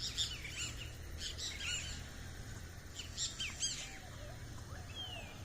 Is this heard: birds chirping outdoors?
yes